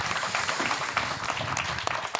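Steady applause from an audience at a live talk event, dense clapping sustained throughout at fairly close range, with no talking.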